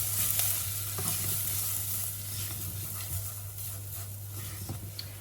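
Steady sizzling of onions and spices frying in a pan, with soft scraping as they are stirred; no voices.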